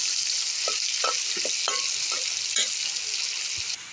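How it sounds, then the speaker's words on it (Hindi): Chopped onion frying in hot oil for a soyabean dish, a steady close bright sizzle broken by several short clicks and scrapes of a stirring spoon against the pan. "इस प्याज को हम तब तक इस तेल में भूनेंगे जब तक कि इसकी कलर न चेंज हो जाए।"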